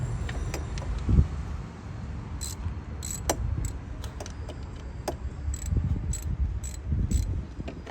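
Socket wrench with an extension loosening the 10mm bolts on a plastic thermostat housing, giving a run of light metallic ratcheting ticks and clicks close by.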